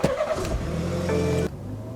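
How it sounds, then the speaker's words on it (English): BMW 330i engine starting, a close mechanical crank that catches into a running idle with a steady low hum, no talk. "Let's give the engine a start and see how much lift we got now."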